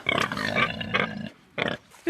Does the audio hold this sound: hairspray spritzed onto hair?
no